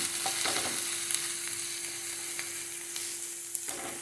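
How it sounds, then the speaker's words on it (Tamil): Chopped onions sautéing in a pan for a mushroom pepper fry: a continuous close crackling sizzle with occasional light clicks and taps from stirring, over a faint steady hum. "இப்போ இதையும் கொஞ்ச நேரம் வதக்கலாம் நல்லா வதங்கி வரட்டும்"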